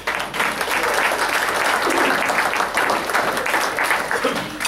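Audience at a university luncheon bursts into steady applause for students, a dense, continuous clapping from a sizable room, loud and even throughout with no voices standing out.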